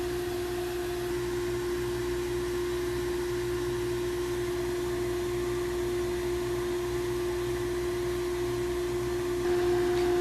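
Sandblasting an engraving into a clay brick through a 4mm mask: a steady, even hiss of blasting air with a constant mechanical hum beneath it, continuous and unbroken from start to finish, with no voices.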